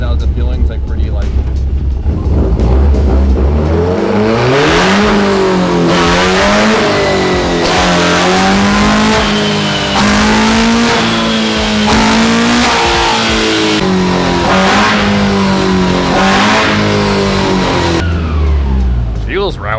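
A rear-wheel-drive-swapped Honda Civic's engine revs hard and loud, its pitch climbing repeatedly through short gears with brief dips between shifts, while someone talks over it.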